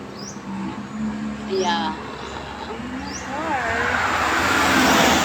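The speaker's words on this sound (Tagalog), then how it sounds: "Yan pala yung mga maingay na sasakyan. Yung mga motor." Traffic noise from noisy cars and motorcycles on a Philippine street, a steady roar that swells louder toward the end, with engine whines rising and falling as vehicles pass close by, and a voice speaking briefly over it.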